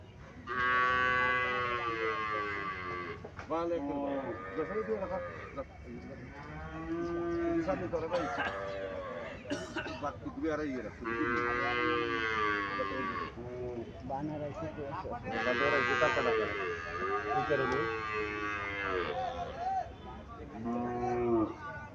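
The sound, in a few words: Sahiwal cow mooing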